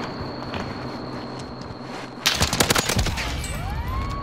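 Rapid gunfire crackles in a shooting video game, a quiet ambient stretch giving way to a sudden loud burst of closely spaced shots, followed by ringing, whistling tails.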